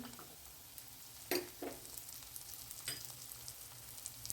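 Onions, ginger and garlic sautéing in a pan for paneer masala, heard as a quiet, steady sizzle with a couple of brief stirring clinks.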